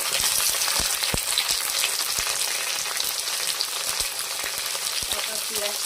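Cauliflower florets added to already-fried potatoes sizzle loudly in a hot pan, a steady crackling hiss dotted with sharp pops and spatters throughout, close and continuous with no voices.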